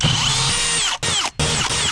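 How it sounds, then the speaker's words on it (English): A power drill with a new bit bores into a fiberglass swimming pool shell, a loud, close whining grind that runs almost continuously, broken by two short pauses as the trigger is released. "I mentioned earlier when you guys drilling these, if you hit it hard with a new bit, it'll chip it."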